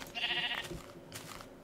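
Sheep bleating in the Minecraft video game, a short nasal bleat near the start followed by a softer second cry, heard up close over a quiet background with no talking.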